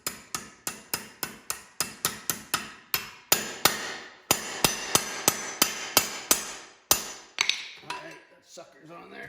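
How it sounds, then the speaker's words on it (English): Hammer strikes pounding a pal nut onto a John Deere 46-inch mower blade, a rapid run of sharp metallic taps followed by heavier, slower blows, close and loud with no talking. "pound the other pal nut on"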